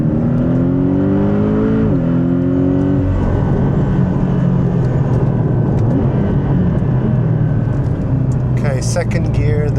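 Porsche 718 Boxster GTS engine pulling hard in second gear through a hairpin turn, a loud sustained drone with a falling then rising pitch as it shifts and accelerates, close and steady throughout.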